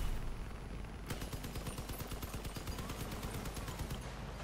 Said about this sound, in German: Wir schießen schon.